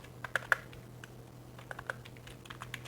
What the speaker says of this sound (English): Typing too fast again.